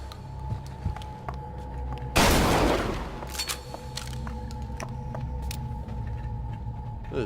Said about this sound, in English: It's a super shotgun.